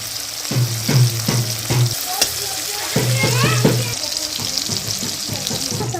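Tomato pieces sautéing in a pan: a sizzling hiss broken by repeated clattering knocks of a spatula or spoon against the pan, close and fairly loud in rhythmic bursts.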